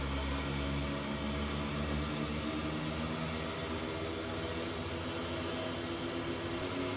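De Havilland Twin Otter turboprop engines roar steadily with a dense, continuous whine and drone as the power levers are advanced, loud and unbroken throughout.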